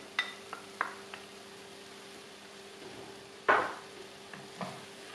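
Tomato broth poured into a pan of frying mushrooms for vegan stuffed peppers gives one brief sizzling hiss midway, set among faint clinks of stirring in an otherwise quiet kitchen.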